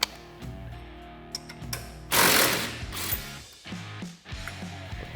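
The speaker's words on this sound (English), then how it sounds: "Then we're gonna remove our lower shock bolt." Ratchet and power tool work removing the lower shock bolt on a Honda Talon 1000X suspension, rapid mechanical ratcheting and whirring bursts, close and loud, with a brief harsher burst midway.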